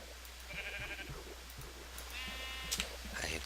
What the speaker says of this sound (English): I ventured out after the nearby sheep in hopes of collecting some wool from them